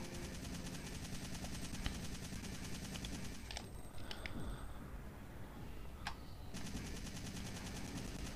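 Sustained rapid gunfire crackles through Resident Evil 3: Nemesis during a fight against the Nemesis, with dense repeated shots broken by a brief lull and a few sharp isolated bangs before the burst resumes.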